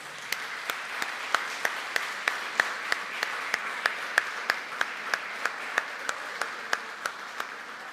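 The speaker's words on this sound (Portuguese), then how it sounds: "Você pode aplaudir a Jesus por essa palavra?" A church congregation claps in praise during a worship service, a fairly soft, steady wash of applause punctuated by a regular run of sharper, evenly spaced individual claps.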